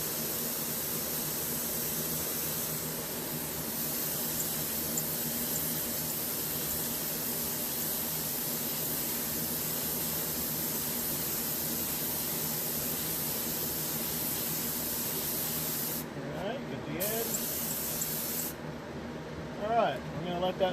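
Spray gun laying a light clear tack coat onto a tumbler, a steady broadband hiss running continuously and close, with brief breaks and some faint handling noise near the end.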